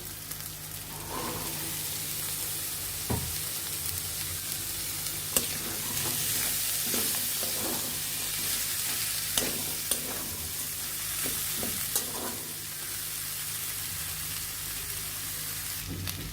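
Boiled chickpeas are stirred into spices frying in a pan, a steady sizzle running throughout, broken by occasional scrapes and clinks of the spoon against the pan.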